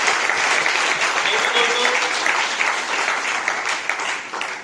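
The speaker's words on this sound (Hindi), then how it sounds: "एक बार जबरदस्त तालियां मारेंगे साहब" A seated audience at a business motivational event bursts into sustained clapping, loud and dense, gradually tapering near the end.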